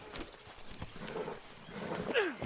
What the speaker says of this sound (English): Load Anders onto the back of your horse there, and we'll take him to Sheriff Gray